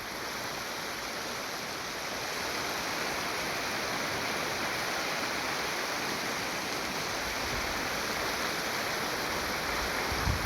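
Floodwater pours over and erodes a road like a waterfall, a steady, broad rushing roar that holds constant throughout with no voices.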